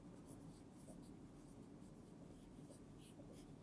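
A pen writing an answer by hand for an English class exercise, soft continuous scratching strokes close to the microphone under quiet room tone.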